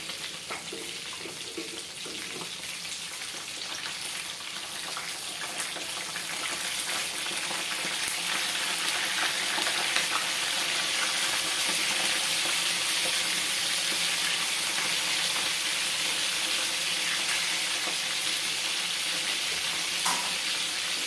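Tilapia frying in a pan, a steady broadband sizzle that grows louder partway through as the fish is flipped, close and continuous with no talking.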